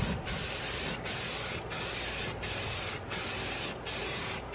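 An aerosol can lays a heavy coat of paint in a camper van build. Six or seven steady, loud, close spray bursts of about half a second to a second hiss out, each broken by a brief pause.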